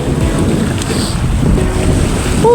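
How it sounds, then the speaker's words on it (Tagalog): Strong wind buffets a fishing boat at sea, a loud continuous rushing roar over the microphone with low wave and hull noise beneath, no talking. "lakas ng hangin."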